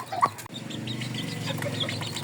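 Serama chicks peep softly over a steady clucking Serama hen close by, with a low rustle in the background and no talk.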